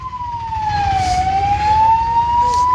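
An ambulance siren wails on a blocked road to Jammu, a steady loud tone sliding slowly down and back up over a low rumble of engine and traffic noise.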